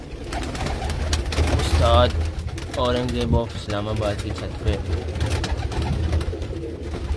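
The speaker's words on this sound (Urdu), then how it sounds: "ٹیڈی کبوتر ہیں جی, زبردست پرفارمنس ہے جی ان کی" Teddy pigeons coo on a rooftop in Islamabad, several rounded, repeated throaty coos rising over a low background hum while someone speaks over them.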